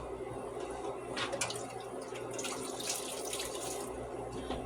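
Hot grease bubbles steadily while masa flour cornbread fries in a pan, a continuous close crackling sizzle with no voices over it.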